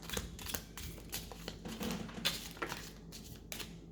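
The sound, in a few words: handling and cleaning playing cards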